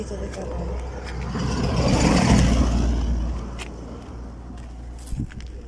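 A vehicle passes on a mountain road, its rumble swelling to a peak around the middle and then fading, with voices talking over it.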